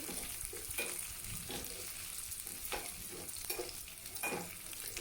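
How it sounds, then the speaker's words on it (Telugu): Curry leaves and onion fry in hot oil in a pan for Nellore dal pulusu, a constant close sizzle broken by a rhythmic run of scraping stirs about every second, with no one talking. "తర్వాత కరేపాకు కూడా వేసేయండి కాస్త ఆనియను కొద్దిగా ఎర్రబడాలండి"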